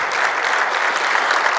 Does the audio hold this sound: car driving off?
no